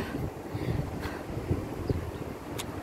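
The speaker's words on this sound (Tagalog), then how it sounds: "malakas yung hangin dito sa taas" Strong wind sweeps across a rooftop in Kuwait, a steady, fairly quiet rush with gusts battering the microphone and a few faint thumps, with no talking.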